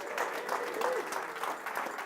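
An outdoor crowd at a Twin Town 2018 safety briefing for marshals and volunteers claps and cheers steadily throughout, a continuous wash of applause from many hands.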